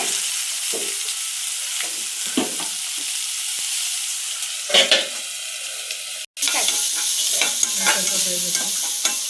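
Peas with green chili and garlic paste fry in a pan for vada pav, with a steady, loud sizzle throughout and occasional scraping stirs and spatula clinks.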